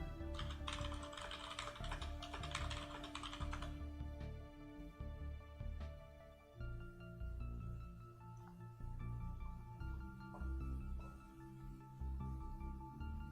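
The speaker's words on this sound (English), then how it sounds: "I was typing." Typing on a computer keyboard, a quiet, irregular patter of key taps under a faint tonal background, busy at first and then sparser.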